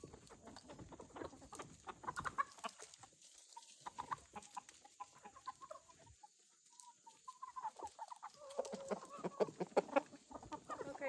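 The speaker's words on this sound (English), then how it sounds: "Oh, the rooster drama is real around here." Chickens cluck and a rooster calls through an evening farmyard during chores, scattered close and distant bursts of clucking and squawks at varying loudness with no voices over them.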